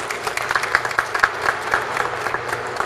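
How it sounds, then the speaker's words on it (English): Steady applause from a crowd, many hands clapping densely and continuously at moderate volume, with no speech over it. "please give a round of applause to the College Democrats"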